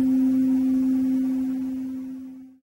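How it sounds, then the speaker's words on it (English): A 256 Hz tuning fork rings with its handle pressed to a hard surface, giving a single steady pure tone that holds loud and even before fading out over about two and a half seconds. "Place the handle on a hard surface, and the pure tone from the forks is amplified."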